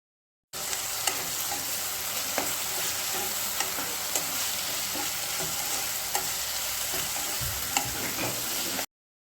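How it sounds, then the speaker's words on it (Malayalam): Sliced onions with salt stir-frying in a pan, a continuous sizzle with scattered scrapes and ticks from stirring, steady and close with no talk. "ഉള്ളി, പിന്നെ ആവശ്യത്തിന് ഉപ്പ്, അതുമാതിരി ഈ ഉള്ളി ചുവക്കുന്നവരെ ഇളക്കി കൊടുക്കുക."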